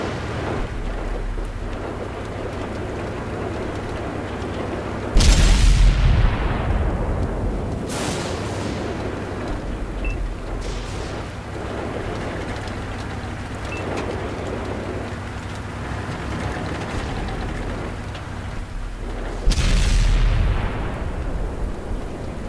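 A tank cannon in World of Tanks on PS4 fires two heavy booms about fifteen seconds apart, each a deep blast fading into a long rumble, over a steady low engine drone.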